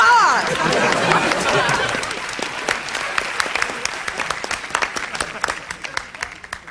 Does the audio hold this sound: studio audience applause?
yes